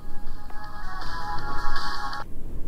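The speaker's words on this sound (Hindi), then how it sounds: "किसी का फोन आया मेरे पास?" Phone ringtone in the horror video game Closing Shift, a steady electronic melodic trill ringing for about two seconds before cutting off, over a low background hiss.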